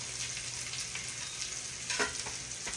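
Water boils in a pot on a home stovetop, a steady bubbling hiss with scattered small pops and crackles, close and even throughout, with no voices.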